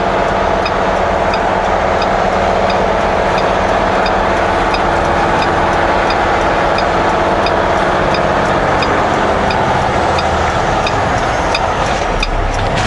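Car engine droning steadily while climbing the steep Rogers Pass grade in manual mode, held in a low gear without upshifting; a constant loud road and engine roar with no speech.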